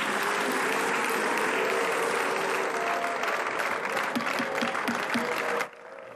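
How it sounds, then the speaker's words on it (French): Dense applause fills the French Senate chamber after a vote on the immigration bill, with boos mixed in from one side; the steady crowd noise runs loud for about five seconds, then cuts off abruptly. "Huée à gauche, applaudissements à droite de l'hémicycle"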